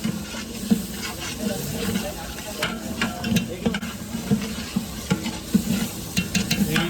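Large batch of mutton dal mundi with ginger paste, about ten kilos cooked for 150 people, being stirred and fried in a big pot: continuous sizzling and hiss with scraping stir strokes, close and steady.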